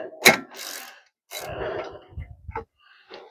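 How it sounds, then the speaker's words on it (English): A 13 mm wrench working loose the brake caliper bolts during a brake inspection gives a few short ratcheting clicks and metallic knocks up close, with quiet gaps between. "Get a 13 mil wrench on this. Get these bolts broke loose."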